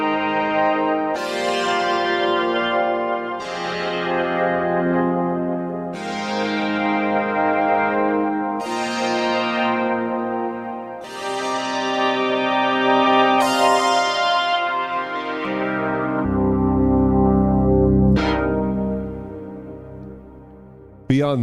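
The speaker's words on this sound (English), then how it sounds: "it has this beautiful ensemble effect" Kawai SX-240 polyphonic synthesizer with its built-in ensemble effect switched on, a series of lush chorused chords, each struck and slowly decaying, played one after another with a lower swelling chord near the end.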